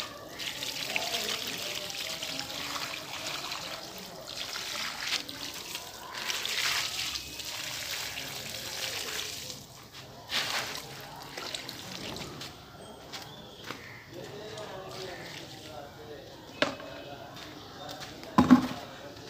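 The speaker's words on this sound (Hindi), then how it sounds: "लगा दिया मैंने पानी एक बाल्टी भर के" Water from a full bucket is poured onto mint plants outdoors, heard as intermittent splashing and trickling bursts with brief gaps and a few sharp knocks, fairly quiet overall.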